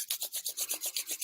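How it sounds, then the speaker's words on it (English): Hands rubbed briskly together during a vocal warm-up, a close, dry rasping swish repeated in a steady back-and-forth rhythm of about eight strokes, alone without talk. "Rub your hands together,"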